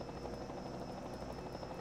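A video game helicopter's rotor drones steadily throughout, a continuous throbbing whir with no voices, in a truck racing game.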